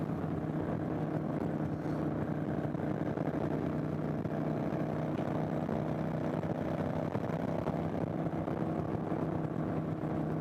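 A 2015 Kawasaki Vulcan 900 Classic cruiser motorcycle at steady riding speed, its engine a continuous, even drone with a low hum and a wash of road and wind noise throughout.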